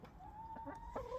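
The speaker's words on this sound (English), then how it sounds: "chickens are wondering what I'm up to" Faint clucking from chickens nearby, a few short calls and a drawn-out note over quiet background noise.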